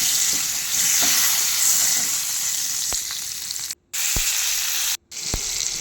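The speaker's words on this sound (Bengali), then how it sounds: "গোটা পটলগুলো মাঝখান থেকে একটু চিড়ে নিয়েছিলাম, সেগুলো নুন হলুদ মাখিয়ে ভেজে নিচ্ছি ভালো করে।" Whole pointed gourds, slit down the middle and rubbed with salt and turmeric, fry in mustard oil with a steady, loud sizzle throughout, broken by a few soft stirring clicks and two brief silent gaps.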